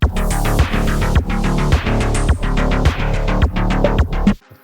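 A steady, punchy kick drum thumps in a regular beat, its low thud carrying a gritty harmonic edge over a dense, droning mix.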